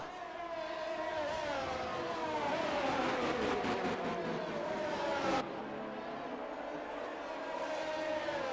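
A Ferrari race car laps Spa in a racing video game, its engine whining loudly and steadily, with the pitch climbing and dropping through gear changes and a sharp shift around the middle.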